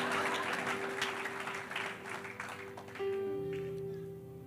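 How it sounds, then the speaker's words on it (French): A crowd of children claps and cheers in a steady wash of applause, fairly loud at first and gradually thinning, while sustained music tones come in partway through. "ce sont les fameux enfants qui sont en train d'acclamer"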